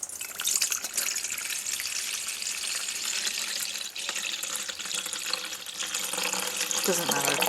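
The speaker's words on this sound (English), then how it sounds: "Then we're going to fill it up with water." Tap water runs into a container at close range, giving a continuous splashing hiss that stays fairly even and then changes pitch slightly near the end as the vessel fills.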